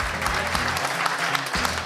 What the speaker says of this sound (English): Give it up for Robert Punchur